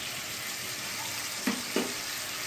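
Turmeric, cumin, coriander powder and salt being stirred into hot oil for a homemade dahi katla: a steady, even frying hiss throughout, with two short scraping stirs of a spoon near the end.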